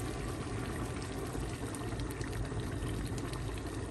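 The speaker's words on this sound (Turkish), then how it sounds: "şimdi biraz da kaynamış su ilave ediyorum" Boiled water pours into a pan of zucchini in a home kitchen, a steady, continuous splashing rush that holds without a break.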